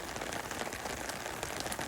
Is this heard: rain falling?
yes